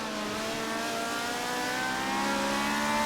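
A Ferrari race car in Forza Motorsport 7 revs hard through a GT race at Indy, its engine note droning and climbing steadily with no talk over it.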